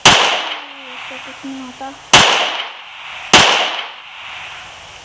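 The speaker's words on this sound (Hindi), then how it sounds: "ये रहा हमारा चिकन, इसको हेडशॉट देते हैं" Three sharp gunshots are fired at a chicken in the PUBG training mode, loud and close with short decaying tails, spaced about a second apart, and someone speaks briefly between the shots.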